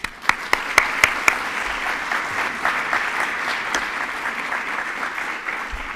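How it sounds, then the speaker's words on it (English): Audience applause after a talk at an academic symposium, opening with a few sharp separate claps and then settling into steady, moderately distant clapping from a room full of listeners. "let's clap for Professor Wirtz."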